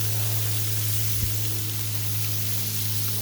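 Bacon sizzles on a Blackstone griddle in a steady, even hiss of frying fat with a low hum underneath, continuous and close, with one brief knock partway through.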